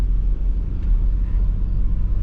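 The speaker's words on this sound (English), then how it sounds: "the recycling truck went down that way" A recycling truck passing on a residential street, a low continuous engine rumble from moderate distance, steady throughout with no voices.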